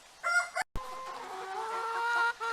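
Hens and roosters on a farm cluck close by in short bursts, followed by a steadier run of clucking calls.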